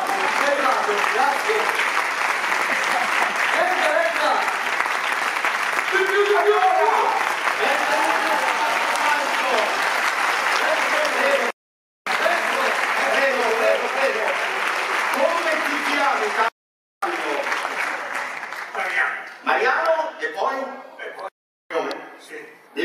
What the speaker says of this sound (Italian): Se magari fate un applauso